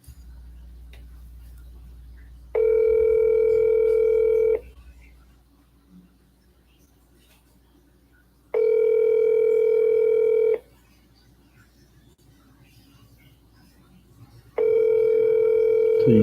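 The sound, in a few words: telephone dial tone and ringing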